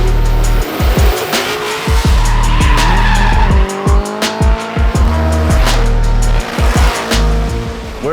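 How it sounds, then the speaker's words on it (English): Drift cars on a closed section of canyon road in Kentucky scream past with loud squealing tires and roaring, revving engines that rise and fall as each car slides through. "The guys today are shutting down a section of Canyon Road and they're gonna send a bunch of drift cars up."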